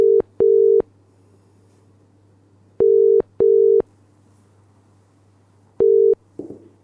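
Telephone tones on a live call-in TV show, three groups of short steady beeps separated by silence over a faint low hum, with a brief rustle at the end and no talk.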